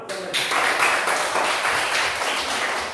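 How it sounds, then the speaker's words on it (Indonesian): Schoolchildren in a classroom clap together in a dense, steady burst of applause that starts abruptly and carries on evenly for a few seconds without talk. "Itu tepuk tangan dulu"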